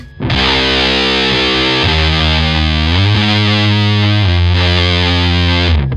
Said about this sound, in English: The choruses go over to the Big Muff as we just play the low end riff.